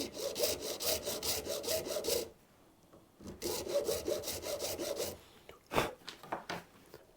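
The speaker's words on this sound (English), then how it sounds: "But I have since got some base nut slotting files, so I'm just going to size them off the original nut" Nut slotting files rasp back and forth in the slots of a bass guitar nut, with rapid rhythmic strokes in two long bursts, a pause between them and a few lone scrapes at the end.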